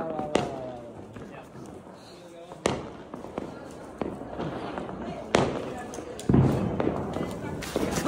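Diwali firecrackers going off outdoors, a series of sharp cracking bangs at irregular intervals, several loud pops with crackling tails, while people talk and shout over them.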